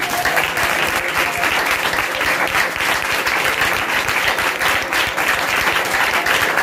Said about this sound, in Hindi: यीशु के नाम में जोरदार ताली बजाइए।